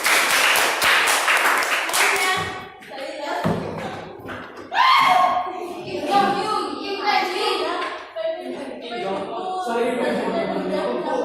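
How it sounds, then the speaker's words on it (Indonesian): A brief burst of dense clapping in a school counseling class, lasting about two seconds, close and loud, after which voices talk over the quieter room. "Aplaus buat kasih."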